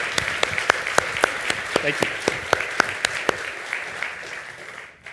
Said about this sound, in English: you're about to get some applause